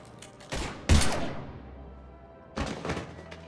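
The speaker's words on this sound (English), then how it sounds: "Now open fire!" Gunfire in the video game Mass Effect 3, with a few sharp bursts and thuds separated by brief lulls, loud and close, with no voices.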